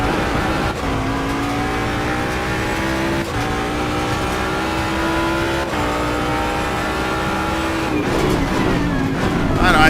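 Race car engine in Assetto Corsa Competizione, holding a loud, steady high-pitched drone with sharp upshifts around every two to three seconds, ending in a downshift and revving near the close.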